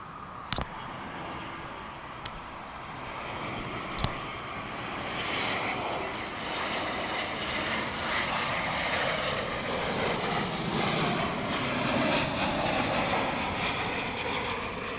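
A passenger airliner on American Flight 312 arrives at DFW International Airport, a low, steady jet roar building in over the first seconds and holding at a moderate distance, preceded by a few sharp clicks.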